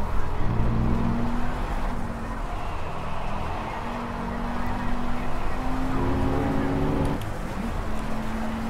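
A car driven at an easy pace in the racing game Project CARS, its engine drone rising and falling with gear changes in steady harmonic sweeps, loud and continuous.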